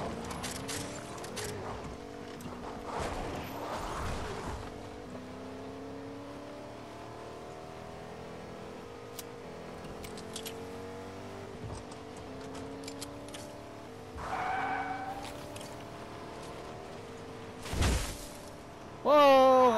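A car engine in a video game hums and shifts pitch as the vehicle drives along, steady and fairly quiet, with a few louder knocks and bumps near the end and players chatting.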